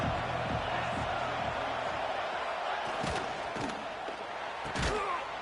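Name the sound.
stadium crowd noise at a Michigan vs Notre Dame football game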